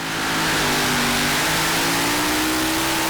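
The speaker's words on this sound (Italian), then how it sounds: "Questo è il tractor pulling, ovvero trattori modificati che trainano un singolare macchinario con un peso" A modified tractor at a tractor pulling competition revs hard, its engine holding a loud, sustained, close roar with a steady droning pitch that slowly climbs.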